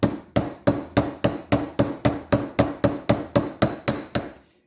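Steady metal-on-metal hammer blows, about fourteen sharp evenly spaced strikes, drive a bearing outer race into place during chassis repair on a CompAir mobile compressor, close and loud with no talk.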